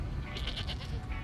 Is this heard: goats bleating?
yes